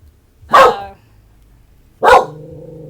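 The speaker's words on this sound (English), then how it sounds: "And yeah, Max is barking" A dog barks twice, two sharp, loud barks about a second and a half apart, close by in otherwise quiet surroundings.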